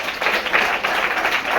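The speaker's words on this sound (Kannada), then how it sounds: "ಜೋರಾದ ಚಪ್ಪಾಳೆ." A studio audience at a Kannada televised quiz programme bursts into loud applause, a dense steady wash of clapping that stays strong for the whole short burst with no talking over it.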